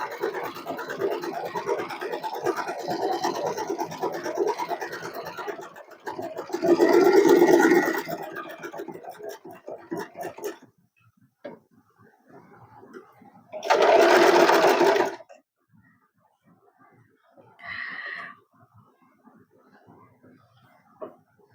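An Usha Allure DLX sewing machine stitching, with a long whirring run, then separate short bursts of fast mechanical stitching and quiet pauses between them.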